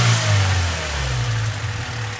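A car engine fitted with an aftermarket intake manifold and throttle body revs steadily nearby, a loud, continuous low rumble with a gentle rise and fall and no talking.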